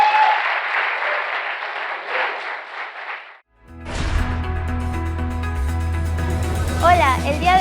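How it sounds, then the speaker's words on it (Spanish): A church congregation claps in steady applause for about three seconds. Then it cuts off abruptly and music begins. "El que lo cree, déle un aplauso al Señor"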